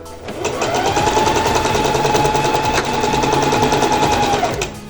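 Domestic sewing machine stitching a blouse seam, a rapid, even mechanical rattle that starts, runs steadily for about four seconds at close range and then stops, with no talk over it.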